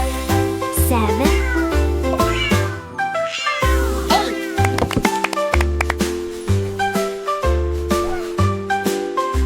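Repeated cat meows woven through a French children's counting song, bright and close over a steady bouncy backing with bass and chimes.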